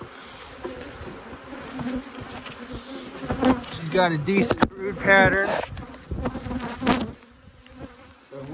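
A dense, continuous buzzing of many honey bees from hive frames fills the clip close by, while a person talks over the hum.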